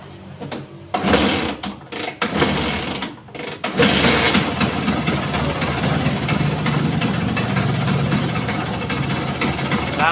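A repaired Vespa scooter engine starts after a few short cranking bursts, then settles into a steady, close, buzzing idle.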